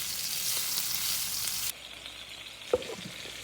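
Peppers and onions fry in a pan with a soft, steady sizzle that drops quieter partway through. A single low knock of a utensil follows near the end. No one speaks.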